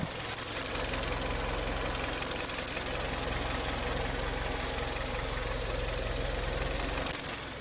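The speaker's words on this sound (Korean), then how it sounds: "요거 감안하고 엔진 소리 들어주세요." A Kia K5 Prestige gasoline engine with about 140,000 km idles steadily and close by with the hood open, a constant rhythmic ticking hum from the drive belt, no talking, cutting out abruptly near the end.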